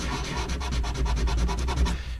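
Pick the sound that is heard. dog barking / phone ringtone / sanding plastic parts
sanding plastic parts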